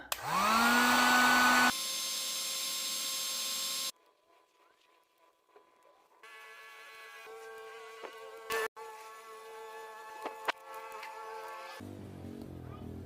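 A hair dryer blows on bike fork decals to heat them for removal, a loud steady whirring hum that switches speed, cuts off, then returns at a lower, thinner drone with a few clicks and handling knocks.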